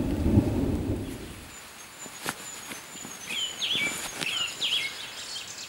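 Thunder cracks and rumbles during a night-time thunderstorm at a solo mountain camp. Heavy rain noise fills the start, then a few sharp strikes follow, with bird calls faintly audible behind them.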